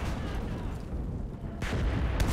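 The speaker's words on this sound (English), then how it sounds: "Oh, that's a grenade!" Booming artillery-like blasts and gunfire from a grenade exploding in a World War video game, where Soviet stormtroopers assault a German trench; a dense, continuous battle roar with a sharper burst near the end.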